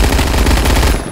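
PPSh-41 Obrez submachine gun firing in a video game: a loud, continuous rapid burst of automatic fire lasting about a second, the individual shots blurring into one dense rattle before cutting off abruptly.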